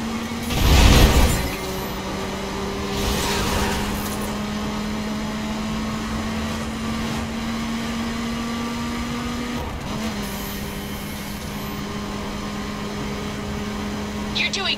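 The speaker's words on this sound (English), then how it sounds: "Show them how a V4 drives, Alex." A V4 car engine races in The Crew video game, a steady droning tone that shifts pitch once midway, with a brief louder burst near the start and voices talking over it.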